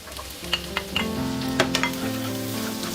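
Chopped onion dropped into hot mustard oil with garlic, for goat trotter nihari, crackles and sizzles loudly up close, with a few sharp pops and a spoon knocking the pan.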